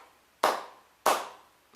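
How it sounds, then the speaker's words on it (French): Three sharp, separate hand claps from one person, evenly spaced about half a second apart, loud and close, with a short ring-out and silence between them. "bravo, non je l'applaudis"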